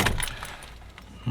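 A key going into the ignition of a Ford Sierra Cosworth: a few quick metallic jingles and clicks close by, loudest at the start and again at the end, with no talk.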